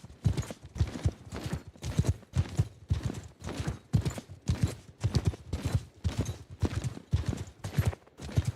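Horse hooves clop in a steady galloping rhythm while riding in the Mount & Blade Old Realms mod, a rapid run of repeated thuds that stays loud and regular across the whole stretch.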